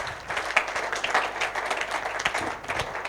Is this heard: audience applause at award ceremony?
yes